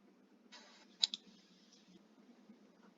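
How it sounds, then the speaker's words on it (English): A single computer mouse click sounds faintly and close by, with a soft double tick against a quiet room and low background hum, with no talking. "So I'm going to click on the Go to Model button."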